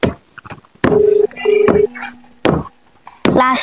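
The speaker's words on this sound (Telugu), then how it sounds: "రింగ్ అవుతుంది." Ringback tone on a phone call, a steady electronic tone sounding in two spaced bursts, with a voice talking over it between them.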